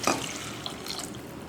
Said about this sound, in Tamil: இப்போ இதுக்கு தேவையான தண்ணியை ஊற்றி நம்ம வேக வைக்க போகிறோம்.